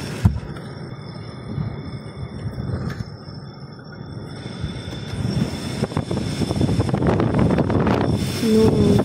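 Strong wind from a super typhoon buffets the microphone over the wash of rough sea waves, building louder toward the end.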